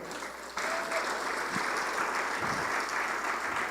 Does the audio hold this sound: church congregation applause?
yes